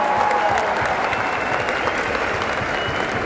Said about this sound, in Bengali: জোরে হাততালি চাইবো সবার কাছ থেকে